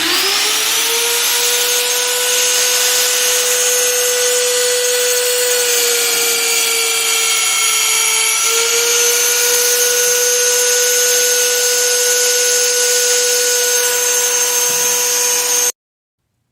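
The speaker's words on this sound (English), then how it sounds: "we're getting ready to use our mag drill to drill those." A magnetic drill bores light holes into a steel dump truck bed on a 1973 Ford F-350, giving a loud, steady high-pitched whine that holds throughout at close range before cutting off.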